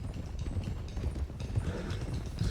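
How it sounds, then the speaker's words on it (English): Horses galloping in Red Dead Redemption 2, with dense, rapid hoofbeats drumming steadily and close throughout, loud and without talk. "let's get these horses to Clemens Cove quick before we run into any more trouble"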